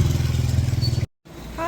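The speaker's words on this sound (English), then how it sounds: "we're trying to avoid death by motorbike, which is quite difficult" A motorbike engine in a busy Marrakech street, a close, pulsing low rumble that cuts off abruptly, then traffic noise returns with a rising whine.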